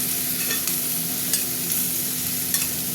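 Diced potato and sponge gourd fry in a pan with a steady sizzling hiss as a spatula stirs them, adding repeated scraping strokes up close.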